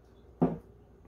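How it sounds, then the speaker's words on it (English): A lid goes onto a pot of chai with black pepper in it, giving a single short clunk in an otherwise quiet kitchen. "Lid on."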